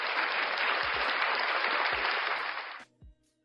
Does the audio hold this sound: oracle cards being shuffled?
no